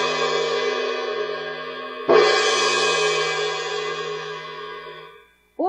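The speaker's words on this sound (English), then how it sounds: "we hit the cymbal to make a splashy sound like this." A cymbal struck with a mallet gives a bright, shimmering crash that swells and rings, then is hit again midway and decays slowly until it is abruptly stopped.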